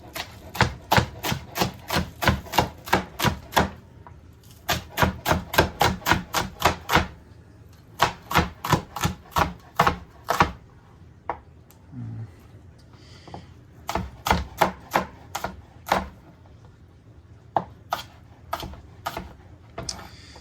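A knife chops greens on a cutting board in fast, regular bursts of crisp thuds, several rapid runs separated by short pauses, close and clear.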